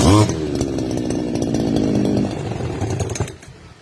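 A small two-stroke brush cutter engine sputters to life, revs loudly and buzzes steadily, then winds down toward the end.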